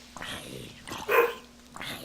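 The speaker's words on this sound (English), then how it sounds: "what's my dog yelling about?" A dog barks and yelps in another room during a Minecraft modpack play session, two or three short distant bursts heard under quiet whispered talk.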